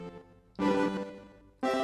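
A Sonicware Texture Lab granular effects processor churns out gritty, grainy, punctuated bursts, with two dense loud swells separated by a thinner, quieter stretch of fragmented tones.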